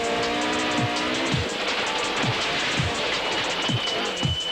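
A Sasol VW Golf rally car at high speed during the Cape Rally 2000 gives a loud, steady roar of engine and road noise, with a series of heavy low thumps recurring roughly every half second.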